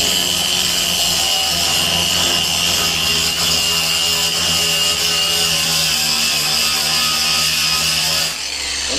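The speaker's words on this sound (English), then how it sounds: "The grinder." Power grinder working a rusted metal table, a loud continuous whining and rasping drone held close for several seconds before easing off slightly at the end, with no talk.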